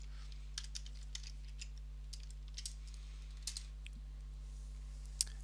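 Someone types a camera group name on a computer keyboard in a quiet room, a few sparse, faint key clicks spread out over a steady low hum.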